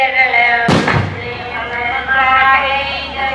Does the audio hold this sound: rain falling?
no